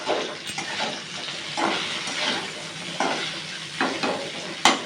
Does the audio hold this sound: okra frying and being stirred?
yes